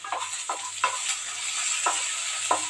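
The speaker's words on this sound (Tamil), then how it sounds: "இந்த வெங்காயத்தை சேர்த்துட்டு வெங்காயத்தை நல்லா வதக்கி விட்டுறலாம்" Chopped medium-size onion sautéing in a pan, a continuous close sizzle punctuated by regular scraping strokes of a stirring spoon, moderately loud with no speech.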